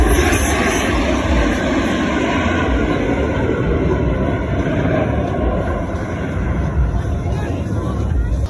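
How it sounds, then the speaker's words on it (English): The Thunderbirds diamond formation passes in review at the 2024 California Capital Airshow, flying wingtip to canopy. Their jet engines give a continuous, loud, near roar while an announcer talks over it. "the diamond is approaching from the right at a mere 18 inches apart from wingtip to canopy for your 2024 Diamond Pass in Review"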